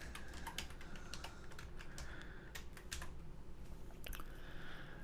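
Rapid, close clicking of keys on a computer keyboard in irregular bursts, quiet and alone with no talking.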